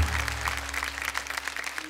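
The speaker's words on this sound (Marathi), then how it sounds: "जोरदार टाळ्या झाल्या पाहिजेत" Audience applause at a Marathi kirtan competition stage event, steady dense clapping filling the whole moment at moderate level, with a low hum and musical drone underneath.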